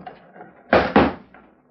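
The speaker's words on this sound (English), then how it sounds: "Close the trap door." Two heavy wooden thuds of a trap door slamming shut in an old 1940s radio western drama, close and loud, one right after the other, with faint room sound before and after.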